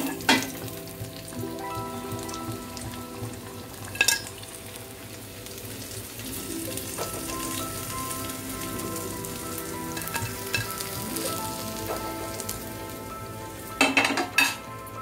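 Paneer frying in a pan gives a steady, gentle sizzle, with a few sharp clinks of a utensil against the pan and no talking.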